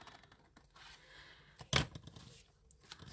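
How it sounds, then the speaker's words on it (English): Scissors snip once through two thick paper pages, a single crisp, fairly close cut that stands out against quiet rustling, with no talking. "Just thought I'd cut through 2 pages then."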